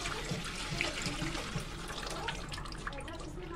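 Sour soaking water from raw mangoes being poured into a homemade pickle, a soft steady trickling splash close by that runs continuously for a few seconds with no talking.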